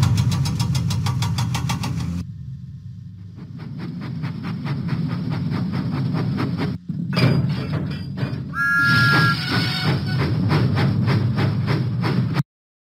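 Thomas the Tank Engine steam locomotive puffing out of the docks in a children's video game, with steady rhythmic chuffing over a low engine rumble, a brief pause, then a high whistle-like tone midway.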